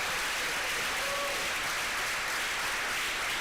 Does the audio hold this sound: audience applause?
yes